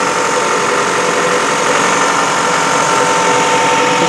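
A 2007 Toyota Camry's 2.4-liter inline-four idles after a cold start, a loud, steady mechanical hum with faint ticking, close up and continuous.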